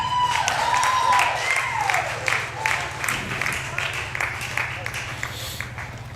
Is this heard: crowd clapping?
yes